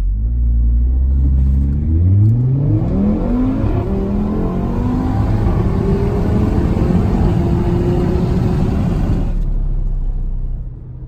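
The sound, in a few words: Audi RS3 standing start acceleration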